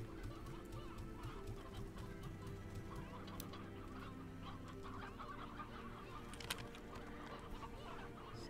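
Chickens cluck continuously in the video game Slime Rancher, a busy overlapping chorus of close clucks over a low steady ambient hum.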